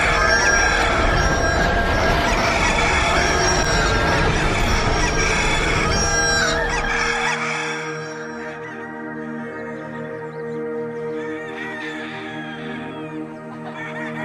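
A large crowd of roosters crow over and over from a barnyard full of chickens, a dense, loud overlapping chorus that thins into fewer, clearer crows and clucks toward the end.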